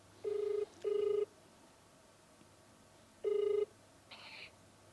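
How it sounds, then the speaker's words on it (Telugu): An outgoing call rings back through a phone line, with two short tone bursts, a pause, then another burst, each a flat electronic tone, followed by a brief higher click. "సరే ఇప్పుడు అమ్మాయికి కాల్ చేద్దాము,"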